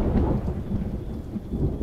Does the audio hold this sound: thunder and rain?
yes